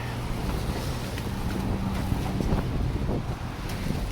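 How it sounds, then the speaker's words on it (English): Strong gusting wind buffeting the microphone on a bridge during a snowstorm, a loud continuous rumble and roar with no voices. "It's very windy right here. It's extremely windy"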